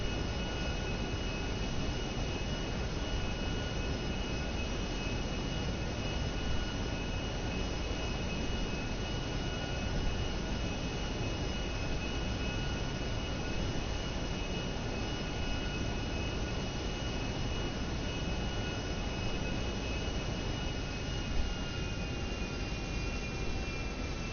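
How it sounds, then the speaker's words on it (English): A propeller airplane's engine drones steadily in flight in GTA San Andreas, high above Los Santos, with a constant broadband roar and a few sustained whining tones that hold level from start to finish, with no talking. "Look at there, another airplane."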